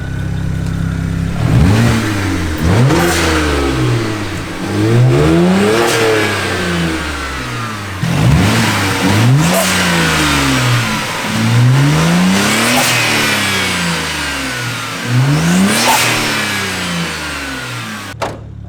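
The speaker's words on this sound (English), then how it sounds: "We're about to get off the car so I can rev it stationary." A BMW 335i engine fitted with aftermarket intakes revs repeatedly while stationary, rising and falling in several loud bursts with a deep throaty tone between them.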